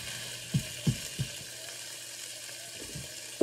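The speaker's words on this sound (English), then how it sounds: "Now you're just gonna let that bacon cook" Bacon frying in a pan gives a soft, steady sizzle, with several faint low pops and spits scattered through it.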